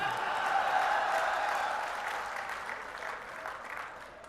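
Crowd applause at a Congress political rally in Jodhpur, a continuous wash of many hands clapping at a moderate distance, steady at first and easing off slightly toward the end.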